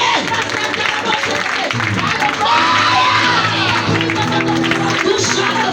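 A church congregation cheering during a deliverance prayer service, a dense roar of voices with whoops, shouts and some clapping that carries steadily throughout, with speech mixed in.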